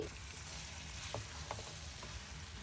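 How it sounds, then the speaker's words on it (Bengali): Raw mango pieces fry with spices for a pickle, giving a steady low sizzle with a few soft scraping stir strokes across the pan. "এখন মশলার সাথে আমগুলো খুব ভালোভাবে ভেজে নিচ্ছি"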